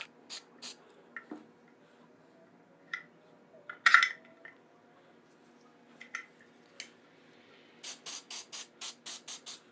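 Spray paint applied as a heavier base coat onto a gun magazine in short hissing bursts, first spaced out and then a quick run of five or six rapid sprays at the end, near and fairly clear, with light handling clinks.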